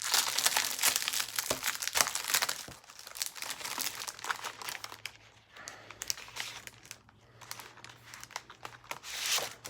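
Card for a handmade mini album is cut and handled, making close, crisp crinkling and snipping rustles in uneven bursts, with quieter pauses between.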